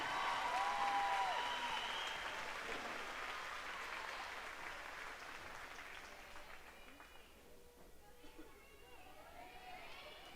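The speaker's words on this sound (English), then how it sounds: "if you'll show that investment by giving them a huge round of applause" Audience applause breaks out at a school district lamb show at a livestock event, a broad sustained clatter of many hands that is loudest at the start and slowly thins over about ten seconds, with a crowd murmuring underneath.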